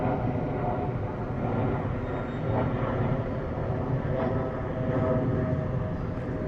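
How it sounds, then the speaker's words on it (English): A camera drone flying over Cricklewood, London as it descends to land, giving off a steady, loud whirring drone that holds even throughout with no speech. "So just gonna land the drone now here."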